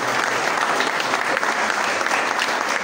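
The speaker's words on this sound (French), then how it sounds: "Est-ce qu'on peut applaudir pour l'équipe de lieu?" Audience at a film screening applauding, a dense and steady roar of many hands clapping that holds evenly throughout.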